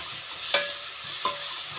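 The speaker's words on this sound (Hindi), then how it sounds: "चने में तड़का लगा दिया था।" Spices tempering in hot oil for a chickpea curry give a steady soft sizzle, with two brief stirring clinks standing out, close by and with no voices.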